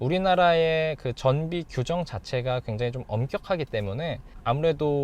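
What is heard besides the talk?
No everyday noise stands out behind the speech.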